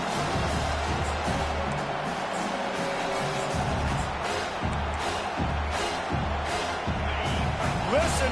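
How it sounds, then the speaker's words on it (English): A football stadium crowd roars continuously, a broad, dense wall of cheering and noise that swells and holds throughout, with a commentator's voice faintly mixed in. "Listen to this crowd just shaking the girders of this place, trying to help their defense."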